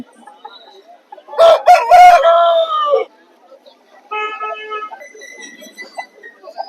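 A rooster crows loudly and close by at a village livestock market, one long crow followed by shorter clucking calls amid quieter background noise.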